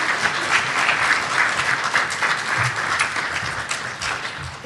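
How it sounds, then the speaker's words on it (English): Audience at a local and sustainable food community event giving a round of applause, dense sustained clapping throughout, fairly loud and close. "Let's give them a round of applause."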